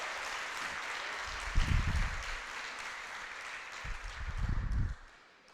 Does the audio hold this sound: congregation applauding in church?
yes